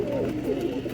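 A pigeon coos in a low, throaty, continuous warble at close range, alone and fairly soft.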